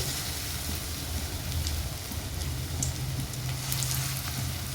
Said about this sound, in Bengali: এবার চিকেনের পকোড়াগুলো এক এক করে তেলের মধ্যে ছেড়ে দিচ্ছি।